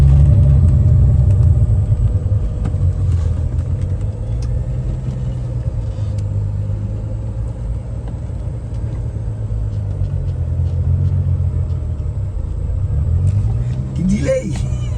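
Rumbling car engine during a burnout, a steady low drone that holds throughout with a rising rev near the end and voices underneath.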